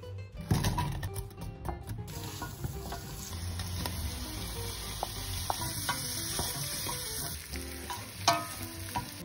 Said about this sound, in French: on va mettre le beurre dans la petite marmite.